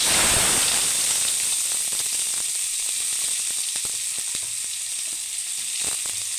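Small onions drop into hot oil and set off a strong, steady sizzle that eases slightly over several seconds, close by, with faint scrapes and clicks from the pan and no talking.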